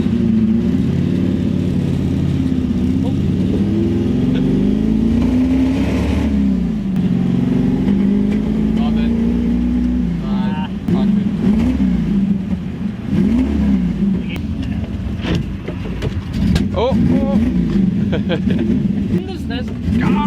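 A 1967 Ford Mustang's 347 stroker engine idles and revs in rising and falling pitch while a person talks over it close by.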